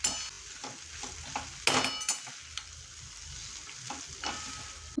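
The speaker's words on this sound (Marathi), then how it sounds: "मी असं व्यवस्थित ढवळून घेतलं आहे." Prawn Maggi noodles are stirred in a pan, a soft sizzle under scraping and clinking of a utensil against the pan, with one louder scrape partway through.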